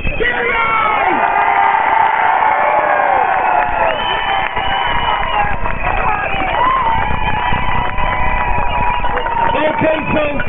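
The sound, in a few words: applause and cheering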